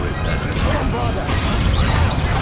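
A Bombarda spell explosion from the Hogwarts Legacy video game, a dense crashing blast that fills the whole stretch amid loud, busy combat noise, with voices over it.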